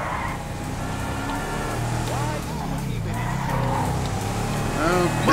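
A big 140-cubic-inch motorcycle in GTA V revs and drones steadily, its engine pitch rising and falling beneath tyre noise and continuous talking.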